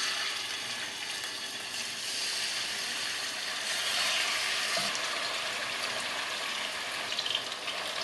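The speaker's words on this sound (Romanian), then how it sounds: "Când s-a încins, adăugăm bucățile de pui." Chicken pieces fry in hot oil in a pot, giving a steady, fairly loud hiss and sizzle that runs evenly throughout without any talking.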